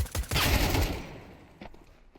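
USP pistol gunfire in a competitive video game match: a rapid close burst of shots that rings out and decays, followed by a fainter single shot a moment later.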